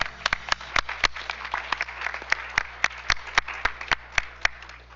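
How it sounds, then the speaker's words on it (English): A small group at a school board meeting claps in a sparse, uneven rhythm, with distinct close hand claps rising over quiet room noise for several seconds. "Now let's give them another round of applause."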